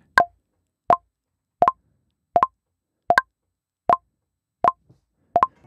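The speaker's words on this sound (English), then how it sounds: "you can actually play this metronome as an instrument, which is a Klopfgeist" Eight crisp, pitched clicks from Logic Pro X's Klopfgeist metronome played as an instrument on concert F ring out at a steady, even tempo, each a short plop-like knock with clear silence between.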